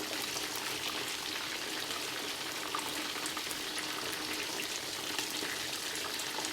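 Thai fried chicken pieces frying in hot oil, giving a steady, dense crackle and sizzle with scattered pops, close and even throughout with no talking.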